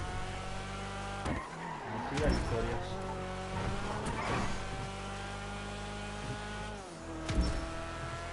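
Car engines racing in GTA Online: a continuous droning engine tone with revving shifts, tire squeals and a passing swoosh, while someone talks over it.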